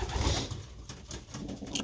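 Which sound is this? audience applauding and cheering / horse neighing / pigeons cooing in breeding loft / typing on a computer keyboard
pigeons cooing in breeding loft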